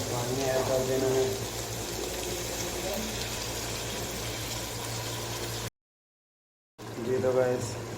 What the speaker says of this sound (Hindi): थोड़ा सा इसमें पानी ऐड कर देना है।